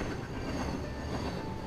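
A long train rolling along the main line in the game Rails Unlimited, a continuous loud rumble of wheels and railcars with faint squealing, steady throughout with no talk.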